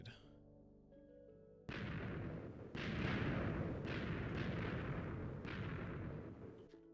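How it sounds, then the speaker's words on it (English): Loud explosions from detonations in the video game Minecraft: a sudden blast hits, then a second heavier boom, with rumbling debris-like bursts rolling on and tapering off near the end. "I have to safely go over there and detonate that side"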